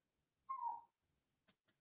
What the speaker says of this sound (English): Don't be barking at me.